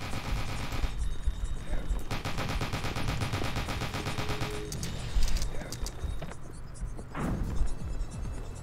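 Rapid, continuous micro SMG fire from a video game, loud and close, with bursts that shift in intensity over several seconds and faint talk underneath.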